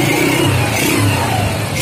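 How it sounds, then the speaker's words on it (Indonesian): A Honda Astrea Prima motorcycle engine, stored in a warehouse for two years and just fitted with a cleaned carburetor, runs loud and close with a steady low throb. "Oke, kita hidupin."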